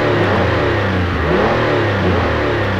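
Several cartoon car engines rev and rumble together in a Pixar Cars scene at the V8 Café, a loud continuous mid-pitched drone with rising and falling revs and no speech.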